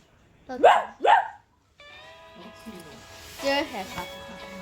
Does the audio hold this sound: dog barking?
yes